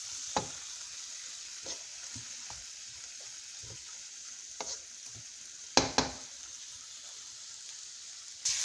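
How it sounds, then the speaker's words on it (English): About half a pound of shrimp frying in a pan for shrimp fried rice, a soft steady sizzle with occasional sharper crackles and pops, no talking. "So we're going to go ahead and allow our shrimp to cook."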